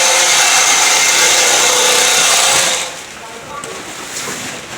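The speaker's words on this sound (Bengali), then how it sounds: "মেশিনের মাধ্যমে ব্যাগগুলোকে সেলাই করা হচ্ছে" Machine stitching jute relief sacks shut for flood victims, a loud continuous whirring and rattling that runs steadily, then drops off sharply partway through, leaving a quieter background with faint voices.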